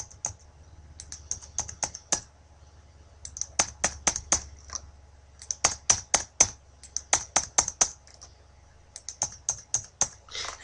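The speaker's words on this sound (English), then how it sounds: "I'm going to click enter 4 times" Repeated key presses on a computer keyboard while working in Microsoft Word, a series of crisp, close clicks in irregular bursts, some quick runs and single taps, with no talking.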